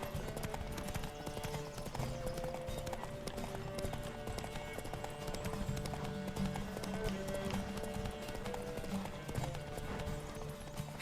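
Horse hooves galloping during a race in The Witcher 3 video game, a continuous rapid clip-clop under dense game ambience and music, moderately loud throughout.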